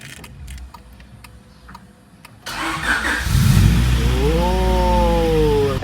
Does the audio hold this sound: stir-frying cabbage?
no